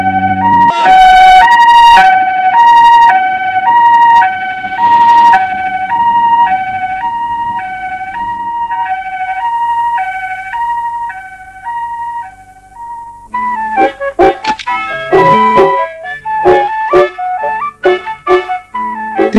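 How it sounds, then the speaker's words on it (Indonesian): An ambulance siren in an old Indonesian comedy film blares loud and close, a steady two-tone wail that shifts into a quicker, choppier pattern near the end, with no voices. "Bawa kue pakai ambulans, Pak Joni."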